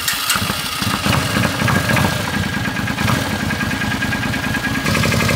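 Suzuki Intruder VL 800 motorcycle engine runs steadily nearby with a loud, throbbing mid-pitched rumble and even pulsing, holding constant with no speech.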